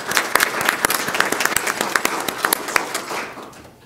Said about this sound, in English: if we can give him a round of applause as well